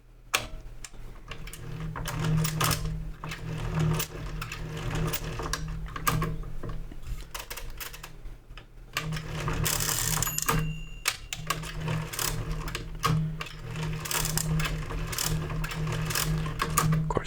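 A Brunsviga 13ZK mechanical calculator, its crank turned over and over, gives a continuous whirring, ratcheting clatter of gears and pawls, close and moderately loud, with a short break midway.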